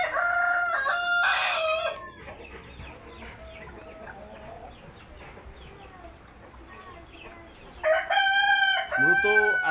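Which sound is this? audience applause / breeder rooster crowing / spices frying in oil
breeder rooster crowing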